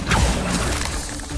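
A summoning spell in a Hogwarts video game comes across as a brief magical whoosh with a glassy, shattering shimmer, loud and close, fading over about a second and a half.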